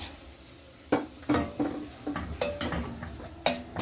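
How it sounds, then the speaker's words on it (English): A spoon stirs minced beef in a cooking pot for kebabs, producing a series of sharp metallic clanks and scrapes against the pot, spaced irregularly and fairly close, with no talking. "Give it a good stir"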